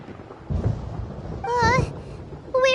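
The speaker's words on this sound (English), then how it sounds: "Paimon hears thunder!" Thunder in the Genshin Impact video game, with low rumbling bursts near the start and middle, joined by a tonal, wavering sound effect that cuts in twice.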